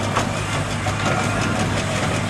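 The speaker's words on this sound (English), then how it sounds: "is the Garrett Express road locomotive, owned by Peter Haley, who is the rally secr" A large Garrett steam road locomotive chugs steadily at idle at a steam rally, a deep continuous rumble with a faint rhythmic pulse, close and loud throughout.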